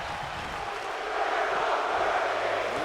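Video game arena crowd in WWE 2K24 chanting during a wrestling match, a steady broad roar of many voices that swells slightly louder partway through, with no clear talk.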